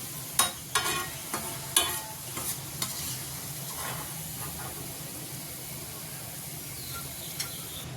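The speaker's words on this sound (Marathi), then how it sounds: "आता हे थोडासा मी उभा चिरला कांदा फ्राय करून घेते" Sliced onion frying in a pan gives a faint steady sizzle, with a few sharp utensil clinks and stirring scrapes near the start before settling into a quiet continuous hiss.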